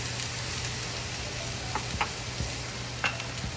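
Shrimp fried rice with green onion stir-frying in a hot pan, giving a continuous close sizzle with a few sharp scrapes and clinks of the spatula stirring, and no voices.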